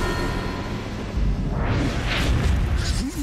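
A fiery explosion from the Righteous Fire attack in the game Pyre, a rushing, rumbling boom that swells over a dense low roar and holds loud to the end.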